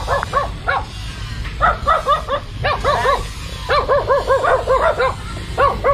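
Many dogs bark in a rapid, overlapping chorus at a rural riverside home, close and loud, with repeated bursts of yaps and woofs continuing throughout.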